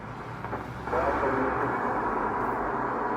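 A radio receiver on an indoor room antenna hisses with steady static that grows louder once the antenna is grounded, a faint station buried in the noise.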